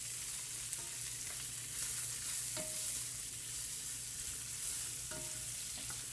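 Separately seasoned ingredients sauté in a pan with a continuous quiet sizzle and occasional utensil clinks and scrapes, close and steady with no talking.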